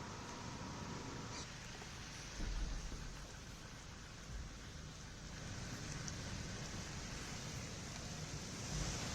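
Steady rain falls across Delhi at night as a dense, even hiss that holds throughout, with a couple of brief low rumbles and no voices.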